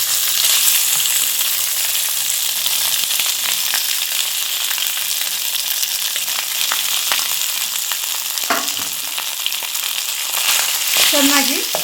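Cumin seeds frying in oil in a pan while being stirred for jeera rice, a steady sizzle running throughout with a few brief scraping knocks near the end.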